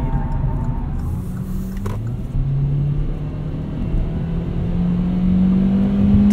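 A 2018 Kia Rio EX pulls away in sport mode, its engine droning low inside the cabin and rising steadily in pitch as the car gains speed, a constant close hum with road rumble beneath it.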